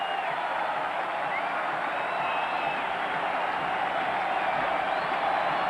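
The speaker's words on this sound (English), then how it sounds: "Well, the crowd up and on their feet." Baseball crowd at a Chicago White Sox versus Cleveland Indians game cheering while up on their feet, a steady dense roar of voices and whistles sustained throughout, loud and even with no pauses.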